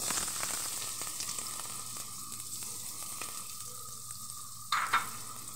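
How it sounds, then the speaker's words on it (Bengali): Chopped onion fries in oil in a pot, producing a continuous close sizzle over a faint steady hum, with a brief louder clatter of stirring near the end. "দিয়ে দিচ্ছি তেলের মধ্যে পেঁয়াজ কুচি"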